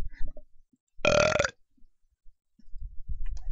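Synthesized burp sound effect made in LMMS, a single short, loud, throaty belch lasting about half a second, with faint murmuring before and after.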